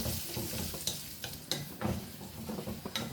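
Onions fry with Kashmiri chili powder in a pan, a steady close sizzle punctuated by rhythmic scraping strokes of a spoon being stirred through the mixture.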